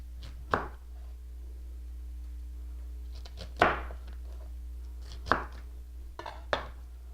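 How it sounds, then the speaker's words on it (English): A knife cutting a V-shaped notch around the core of a fennel bulb on a board: four sharp, separate chops spaced a second or more apart, close and fairly quiet over a low steady hum. "We're just going to cut it kind of like a little V."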